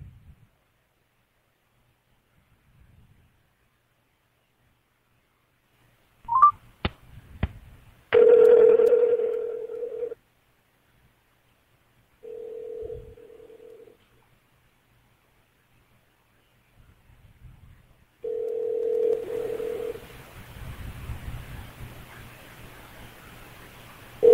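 A telephone call is placed: a few short touch-tone beeps, then a steady tone repeating in long separated bursts like ringback, followed by a burst of hissy line noise, mostly alone with faint background.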